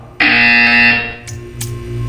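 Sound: buzzer sound in video game Portal 2

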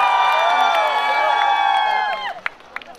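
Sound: audience cheering and shouting

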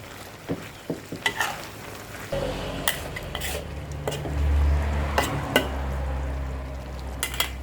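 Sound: stir-frying wild boar over raised heat

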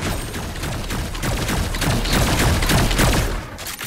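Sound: gunfire in video game Fortnite

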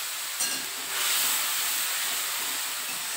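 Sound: spices sizzling in hot oil with nigella seeds

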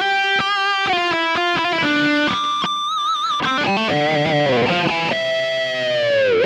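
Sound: high-gain distorted electric guitar

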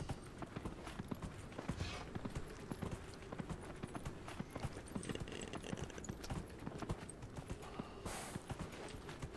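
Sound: horse hooves clip-clopping while riding in video game Dragon Age Inquisition

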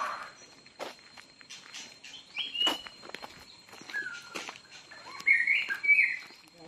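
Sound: many birds chirping

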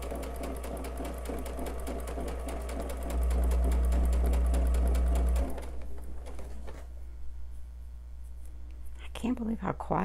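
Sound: sewing machine stitching fabric

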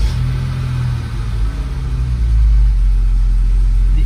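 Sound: Mercedes 107 SL engine starting

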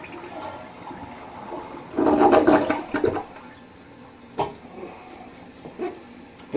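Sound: toilet flushing

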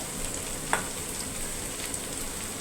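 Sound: onions sautéing in a pan

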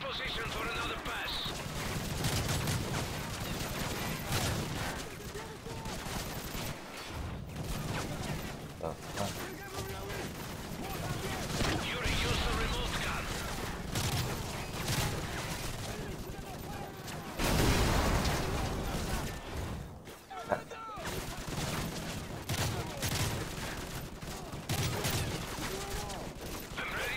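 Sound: remote gun firing in Call of Duty MW3 video game

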